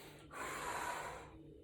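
A single long inhaled breath taken mid push-up, a loud close airy draw lasting about a second, with shaky effort after a workout and no talk over it.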